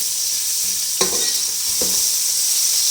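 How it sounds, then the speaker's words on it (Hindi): Ginger garlic paste sizzles steadily in hot oil in a pot with golden-brown onions, with a couple of soft scraping clicks as a spoon stirs it through; no talking. "अब हम इसमें अदरक लहसुन डालेंगे। इसको 1 चम्मच चला के"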